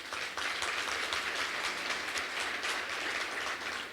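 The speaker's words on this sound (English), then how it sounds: "let's give him a round of applause" An audience gives a sustained round of applause at a Masterkey Music Series concert, a dense, steady wash of clapping from many hands throughout.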